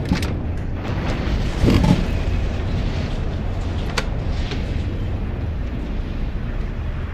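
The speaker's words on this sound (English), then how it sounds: "Warning, reactor detonation imminent." A reactor detonation in the video game Prey rumbles as a loud, sustained explosive roar, with a heavier burst partway through and a few sharp cracks over the continuous low boom.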